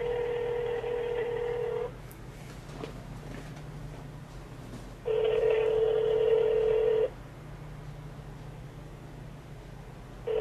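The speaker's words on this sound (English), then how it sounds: "let's give this guy a call" A phone call rings out, two long electronic ring tones separated by a pause, heard close against a faint background hiss with no talking.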